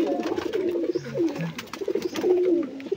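A white male Kagji pigeon with black eyes coos in low, repeated throaty rolls, close and steady throughout, with no talking over it.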